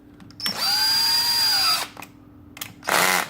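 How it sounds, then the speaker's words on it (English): A DeWalt power drill backs out clutch cover plate bolts on a KTM 1290 Superduke R. It gives one sustained high whine of over a second, then a short blip and a brief final burst, close up with no talk. "I'm going to use my DeWalt because it's faster"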